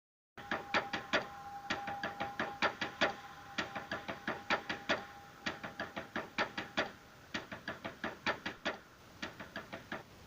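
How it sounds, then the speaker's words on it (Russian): Repeated knocking behind a boarded-up door in the game Angry Neighbor, sharp knocks arriving in irregular clusters of quick raps, steady and fairly loud throughout with a faint tonal hum underneath and no talk. "Если подойти к ней, то можно услышать стук, будто кто-то пытается выбраться наружу и просит о помощи."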